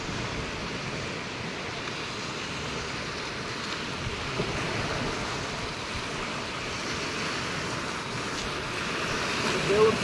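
Strong sea waves surge and wash continuously around a fishing spot at Bakkhali, a broad, rough roar of surf mixed with wind buffeting the microphone, fairly even with a slight swell near the end.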